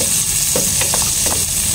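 Garlic sautés loudly in a close pan for a pininyahang manok dish, a dense continuous sizzle with light stirring scrapes and no voices.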